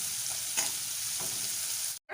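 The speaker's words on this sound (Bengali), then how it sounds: "পেঁয়াজটা কিছুক্ষণ ধরে ভাজা হওয়া পর্যন্ত অপেক্ষা করবো" Onions fry in a pan with an even, close sizzle broken by a few light stirring taps, and the hiss cuts out abruptly just before the end.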